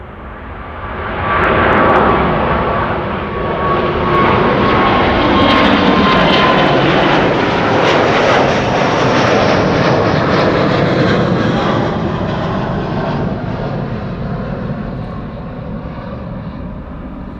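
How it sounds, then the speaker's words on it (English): A Singapore Airlines jet airliner, flight 323 to Singapore, departing Amsterdam Schiphol, its engines roaring loud and steady for the whole stretch with a broad, rumbling wash that swells early and slowly fades toward the end. "Singapore Airlines, flight 323 to Singapore"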